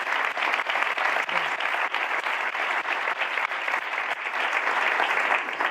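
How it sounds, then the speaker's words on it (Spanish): Warm, sustained audience applause at a talk on a crewed trip to Mars, steady and dense with many hands clapping and no pauses. "Un gran aplauso a Jorge también."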